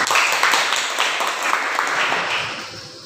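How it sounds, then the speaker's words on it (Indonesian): A classroom group applauds together after a student team leader's presentation, a dense, steady clatter of many hands that holds for about three seconds and then tapers off slightly at the end. "Mari kita tepuk tangan."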